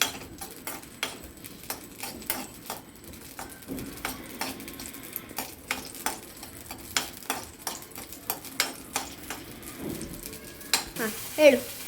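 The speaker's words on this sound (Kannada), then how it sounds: "ಗ್ರೀನ್ ಚಿಲ್ಲಿ ಫ್ರೈ ಮಾಡಿ ತೆಗಿತಾ ಇದ್ದೀನಿ" Green chillies frying in a pan for Malenadu hagalakayi sasive, a soft sizzle under a string of sharp ticking pops and crackles, with a louder splutter near the end.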